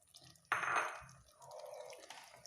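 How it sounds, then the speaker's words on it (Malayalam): A pot of water is poured into a chicken and green plantain curry, giving a quiet, short splashing gush that fades into a softer trickle and gentle liquid movement, with no talk. "ഇതിനൊരു പാത്രം വെള്ളമാണ് ഇപ്പോൾ ഒഴിച്ചത്"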